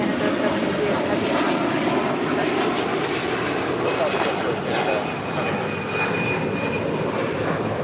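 An Air Canada Airbus A330-300 departs for Toronto, its engines producing a steady, broad roar that holds at an even level throughout, with a faint whine riding on top and no break in the noise.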